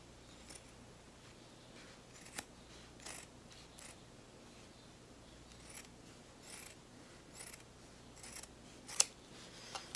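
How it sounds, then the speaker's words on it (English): Small scissors snip embroidery threads on a fabric lovie, a series of faint, crisp, scattered cuts over near-silence, with a couple of sharper snips toward the end. "I'll also be sure to cut the threads as well, because they're kind of long"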